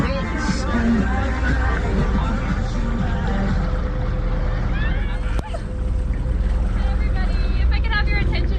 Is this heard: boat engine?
yes